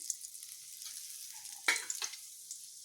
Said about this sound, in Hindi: अब डाल देते हैं 1 पिंच जीरा और 1 पिंच सरसों।